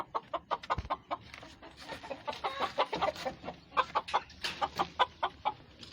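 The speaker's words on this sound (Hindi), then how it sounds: "ऑस्ट्रलोप मुर्गा है और ये ऑस्ट्रलोप मुर्गियाँ हैं" Australorp chickens, a rooster and hens, clucking nearby in a rapid uneven series of short calls lasting throughout, with no talking.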